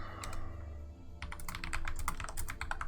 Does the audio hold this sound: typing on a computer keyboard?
yes